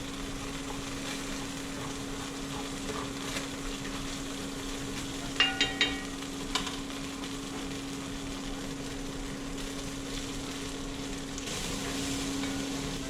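Chopped garlic and onion frying in a pan for beef stroganoff, a faint, steady sizzle running throughout with a few brief clinks of a utensil near the middle.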